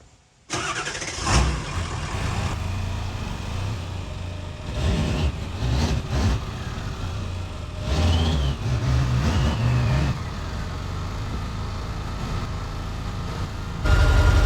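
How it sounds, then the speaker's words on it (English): A pickup truck carrying a Lance camper starts up with a sharp crank, then idles and revs in several surges close by, running steadily throughout with no talk. "So I'm gonna try to talk over the truck."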